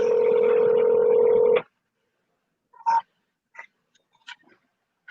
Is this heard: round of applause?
no